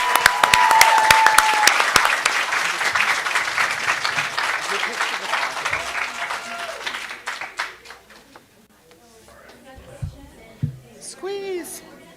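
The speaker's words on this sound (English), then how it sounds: "Let's give them a round of applause." A crowd at a school district board meeting breaks into loud, sustained applause that fills the room for several seconds, then thins out into scattered claps and voices.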